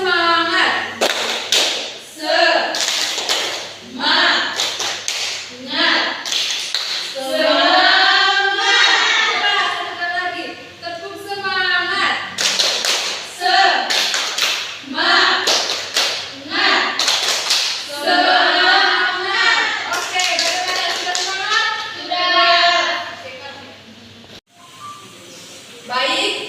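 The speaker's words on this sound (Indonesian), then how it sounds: "coba tepuk semangat." A classroom of children performs a rhythmic clapping cheer, tepuk semangat, with sharp hand-clap bursts in patterned groups while young voices chant along loudly throughout.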